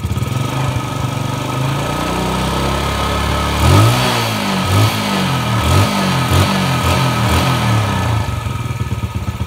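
A motorcycle engine after a fuel problem was fixed, running close and loud, idling smoothly before a series of quick throttle revs that rise and fall repeatedly.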